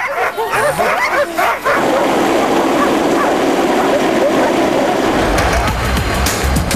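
Sled dogs at a camp bark and yip excitedly in rapid overlapping bursts close by, dominating at first and then blending into a loud, continuous rushing background noise.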